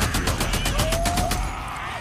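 Rapid automatic gunfire in the video game Days Gone during a fight with a horde of freakers, a fast burst of about a dozen evenly spaced shots, loud and close, trailing into a ringing tail.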